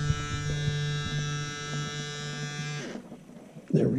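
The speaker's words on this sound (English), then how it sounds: "turn it on and to turn it off, and get myself a shave" An electric razor hums steadily with a strong buzzing tone for nearly three seconds, then switches off, leaving a brief rustle and a soft thump.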